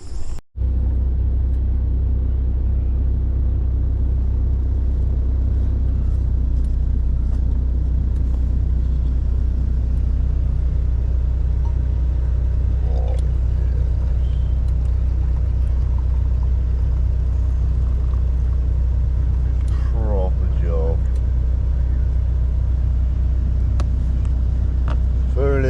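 A truck engine idles with a steady, loud low rumble during extreme-weather truck camping in 60 mph winds, holding constant throughout with faint scattered higher noises on top.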